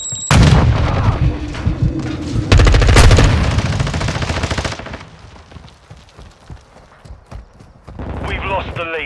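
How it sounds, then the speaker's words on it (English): Gunfire in the video game Call of Duty Warzone: loud bursts of automatic fire and sharp shots at close range, a dense volley early, then scattered pops and impacts, with game voice callouts over the action. "Taking enemy fire!"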